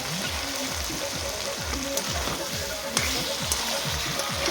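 Boiled beef stirred into tomatoes frying in a pan for a beef and vegetable stew: a steady moderate sizzle with rhythmic scraping strokes of a spoon against the pan and occasional sharp clinks.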